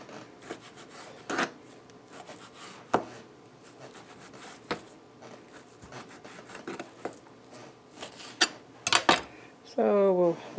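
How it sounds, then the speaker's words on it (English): A knife slices steak into thin strips for fajitas on a cutting board, with soft scattered cuts and light scraping at moderate volume and a few sharper knocks toward the end. "I'm just going to make nice thin strips like this."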